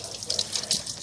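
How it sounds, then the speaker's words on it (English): Water from a garden hose gushes and splashes through a car heater core during a flush, a hissy, bubbling rush of liquid pulsing in short bursts, with someone talking over it. "So I'm pumping clear water in here. It goes through the heater core,"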